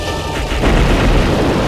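A bomb blast in the Star Fox Assault video game: a heavy, sustained rumbling boom that swells after a brief lead-in and rolls on loudly without talk.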